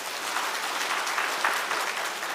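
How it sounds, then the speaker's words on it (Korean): A church congregation at an early-morning Lent prayer service applauding, a dense steady patter of many hands clapping together for a couple of seconds, moderately distant. "박수 한번 해주세요"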